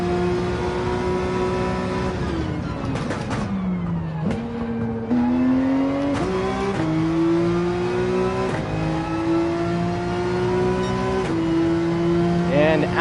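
A race car engine in Gran Turismo 7 drones loudly and continuously, pitch stepping up through gear changes with brief drops between shifts, over a hill section of a sim race; someone talks over it at times.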